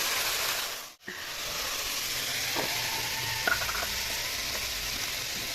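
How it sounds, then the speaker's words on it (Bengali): Spice paste with tomato, bay leaf, chillies, salt and turmeric frying in a pan, a steady hissing sizzle broken by a brief dip, with occasional light spatula scrapes. "আর একটু টমেটম আর তেজপাতা দিয়ে মশলাটা কষাচ্ছি"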